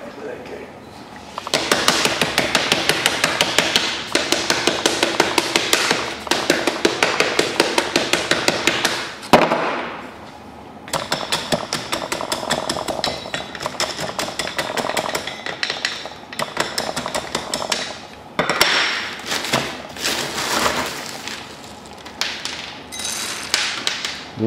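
Repeated sharp taps of a small whacker on a firework shell case as strobe stars are packed in, steady rhythmic knocking in bursts with a short pause midway, close and fairly loud.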